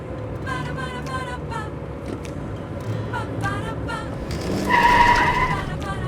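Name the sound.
car braking suddenly with tires skidding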